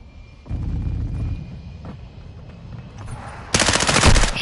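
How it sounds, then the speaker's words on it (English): Video game gunfire: rapid automatic bursts of shots, a sustained volley followed by a pause and then a louder, denser burst near the end, with no talk. "I thought you were shooting at me. I was."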